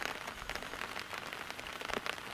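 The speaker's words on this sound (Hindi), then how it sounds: "बारिश ना अंदर आ जा रही है" Heavy rain drums on a tent pitched in a forest during group camping, a dense steady patter of drops close by with no voices.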